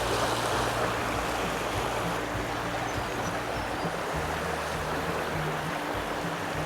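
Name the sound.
stream current flowing water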